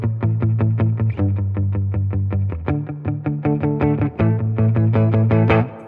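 Distorted electric guitar plays a chord progression with steady, aggressive down-picked strums in a driving rhythm, loud and upfront with no voices.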